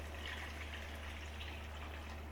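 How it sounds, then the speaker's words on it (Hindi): Water poured from glasses into a pot of browned mutton for rogan josh, a steady low gushing pour against a constant background hum, faint and unbroken throughout. "अभी हम इसमें पानी डालेंगे। 4 गिलास पानी हम डालेंगे।"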